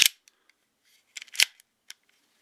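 A Smith & Wesson Bodyguard 380 pistol slide is pulled back and locked to the rear, making a few sharp metallic clicks and a brief cluster of clacks, close and crisp against silence.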